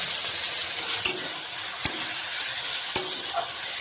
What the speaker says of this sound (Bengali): এখানে আমি চিকেনটাকে দিয়ে দিচ্ছি, দিয়ে ভালো করে কষিয়ে নেব